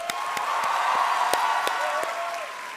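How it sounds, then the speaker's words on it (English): Audience applause and cheering at an evening motivational talk, a steady dense wash of clapping with a few sharper whoops rising over it, moderately loud and continuous throughout. "a big round of applause to all of you"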